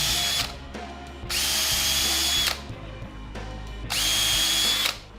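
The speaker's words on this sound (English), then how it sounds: "I'm going to use a Vicks bit and use this to pre-drill these holes." A power drill with a Vix bit pre-drilling screw holes in a black acacia stump, in two loud, high-revving bursts of about a second each separated by a quieter pause, close and with no talk.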